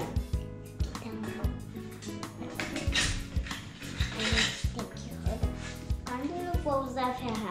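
A hand tool ratchets in short clicking bursts while loosening a screw during a small child's electrician play session, the clicks coming close and repeated under ongoing talk and background music.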